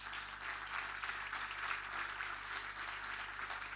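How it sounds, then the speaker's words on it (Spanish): Applause from an audience at a memorial museum book presentation, honoring the board president, Marcia Scantlebury; steady, dense clapping sustained from start to finish at a faint, distant level. "Un aplauso para ella."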